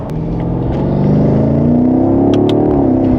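A sports car with a cold air intake revs up steadily, its droning tone rising in pitch as it accelerates, heard from inside the cabin with a deep rumble beneath.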